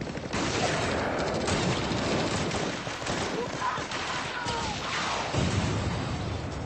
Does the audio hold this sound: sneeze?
no